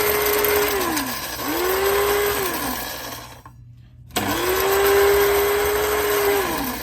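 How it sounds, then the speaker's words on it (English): An electric spice grinder whirs through white peppercorns in a kitchen, its motor rising in pitch and dropping in repeated bursts, with a brief silent pause before the loud grinding resumes and holds steady. "We're gonna go right into our grinder with that."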